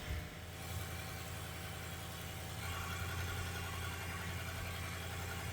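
A 4.6L second-generation Toyota Tundra engine idles steadily at close range while warming up, a low continuous rumble that settles slightly lower partway through, with no voices.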